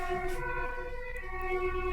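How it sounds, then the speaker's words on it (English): Siren of a passing emergency vehicle holding a fairly steady, loud tone for the whole stretch, with no voices over it. "I'll wait for the siren to pass."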